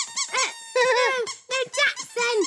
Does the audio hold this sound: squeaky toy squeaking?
yes